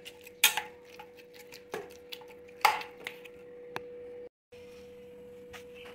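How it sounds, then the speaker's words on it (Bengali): Boiled vegetables, including tomato, eggplant, pointed gourd, bitter gourd and papaya, are mashed with a glass, producing sparse, irregular close knocks and clinks against a dish over a faint steady hum. "এই দেখো গ্লাস দিয়ে খুব ভালো করে চটকে নিচ্ছি।"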